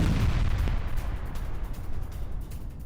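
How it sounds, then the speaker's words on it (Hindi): Heavy bombardment of Russian positions from a Ukrainian drone attack, a dense continuous low rumble of blasts and booms, steady and loud throughout with no speech. "यूक्रेन ने ड्रोन से किया अटैक, ये देखिए जरा। रूसी ठिकानों पर की भीषण बमबारी।"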